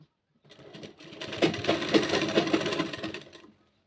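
Machine stitching on a kanchli blouse: a steady run of rapid mechanical clatter from a sewing machine, close and fairly loud, lasting a few seconds with no talk.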